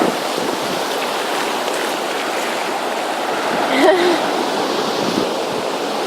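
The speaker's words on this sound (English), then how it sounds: "Here comes water." Surf washing up a beach at night during a grunion run in Encinitas, a steady broad rush of water close by, swelling slightly midway, with a brief faint voice.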